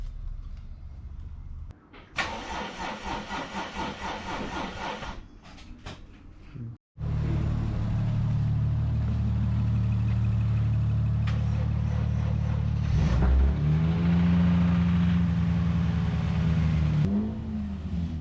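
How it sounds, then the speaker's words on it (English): A rebuilt Lexus IS200 engine starts with a door opening and closing before it, then settles into a loud, steady run with a couple of revs rising and falling. "This was the first time the car drove on its own power since the engine rebuild started."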